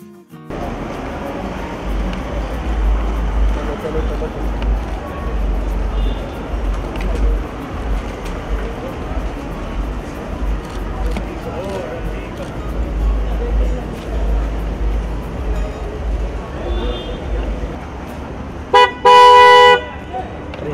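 Busy road traffic with a steady low engine rumble and scattered distant toots, ending in a loud close horn blast, while people talk over the scene.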